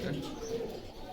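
Pigeons at a pigeon seller's shop coo softly and continuously beneath a steady background murmur.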